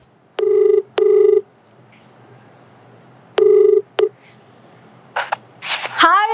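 A telephone call gives two pairs of electronic ringback tones with long pauses between them. A brief click follows, then a voice begins speaking near the end.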